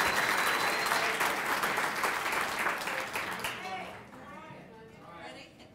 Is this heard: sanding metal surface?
no